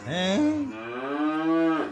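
A cow gives one long, loud, close moo that rises then holds and drops off, with no talk over it.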